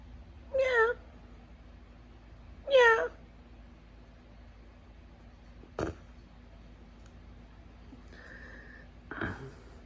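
A cat gives two clear, drawn-out meows close by in a quiet room. A sharp knock and a shorter, rougher vocal sound follow after pauses.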